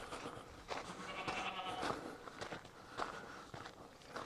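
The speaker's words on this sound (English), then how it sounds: "Got a damn goat up here." Goat bleating among rocky paths at Petra in Jordan, a few wavering cries close by over footsteps and outdoor ambience.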